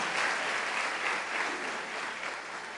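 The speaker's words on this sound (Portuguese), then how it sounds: "Vamos aplaudir ao Senhor." A church congregation applauds during a pastoral anniversary service, a brief burst of even, moderately loud clapping from the crowd with no speech over it.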